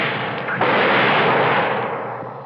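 A single sharp gunshot sound effect in a suspense radio drama, a close, loud blast with a long rumbling decay and no voices.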